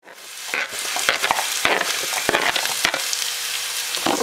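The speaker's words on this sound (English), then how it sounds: "we have some green peppers cooking up here" Green peppers fry in a pan with a bright, steady sizzle, broken by several sharp scraping knocks of stirring, close and loud with no talk.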